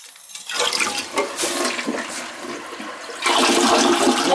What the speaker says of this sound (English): We're going to flush it for the third time.